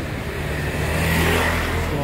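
Small three-wheeled tuk-tuk engine buzzing and revving on a busy Bangkok street on Sukhumvit Road, a close, steady motor drone that swells slightly, with traffic noise around it.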